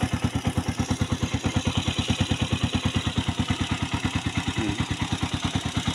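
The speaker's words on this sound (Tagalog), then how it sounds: "Yan ang kanyang tunog ng makina." A traditional motorcycle tricycle engine idles alone at close range, its steady, rapid chug pulsing evenly for the whole stretch with a faint metallic clatter on top.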